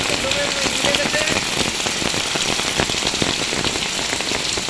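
Heavy rain pours steadily outside a flooded office, a dense close hiss of drops hitting the surfaces throughout, with a faint voice briefly in the background.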